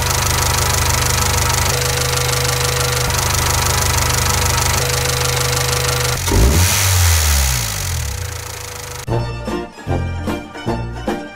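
A car engine ticking and running after a dose of Mecarun P18 additive, a steady mechanical idle with a faint repetitive clatter, followed by a brief rev and then a rougher, uneven running with knocks.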